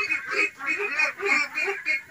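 Ducks on a farm calling in a quick run of nasal quacks and honks, repeating in bursts close by with no talking.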